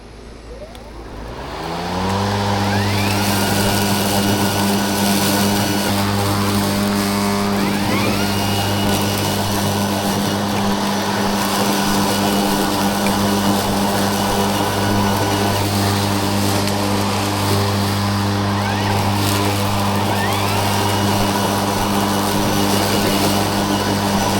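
An Ego battery-powered lawn mower runs on its turbo setting, a loud, steady motor whine with a broad blade roar that ramps up in the first two seconds and then holds constant, close to the microphone, with no talking.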